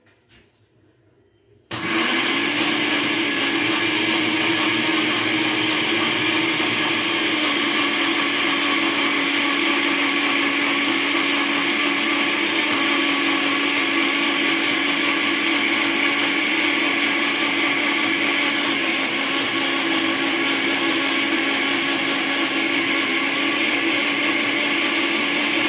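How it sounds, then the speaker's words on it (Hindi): A blender grinds mint leaves with sugar and lemon juice for a mint margarita, starting abruptly after a brief quiet moment and then running as a loud, steady whirring roar for the rest of the clip. "बस इन सब चीज़ों को अच्छी तरह से ग्राइंड कर लेंगे।"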